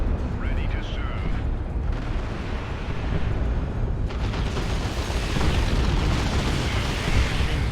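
Generator blowing up in the real-time strategy game Dawn of War 2 (Elite Mod), Space Marines against Orks: a dense, sustained rumbling explosion with crackling debris that swells over several seconds amid ongoing battle noise.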